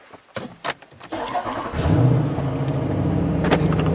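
A car engine cranks with a few short clicks and whirs, then catches and settles into a steady idle rumble, close and moderately loud.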